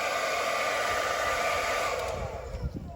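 A cheap dollar-store hair dryer runs steadily and loudly at close range, a constant broadband whoosh with a motor whine, used on a soaked, squishy spot inside a truck in freezing, windy weather; it eases slightly near the end.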